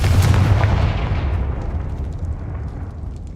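A fire spell explosion booms in the Hogwarts Legacy video game, one loud rumbling blast up front that decays gradually over a few seconds.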